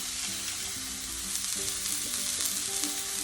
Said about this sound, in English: You just do it 2 or 3 minutes on each side in a really hot pan so it gets a good brown on it